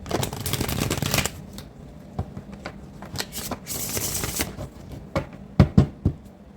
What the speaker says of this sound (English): Let's get one more shuffle for Gemini's greatest good